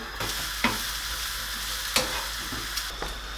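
Chorizo frying in a pan gives a steady close sizzle, broken by a few sharp clicks and scrapes from utensils.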